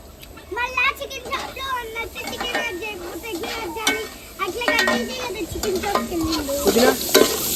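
Onions frying and being stirred in a pan make a steady sizzle with scraping, heard under continuous talk with a voice nearby.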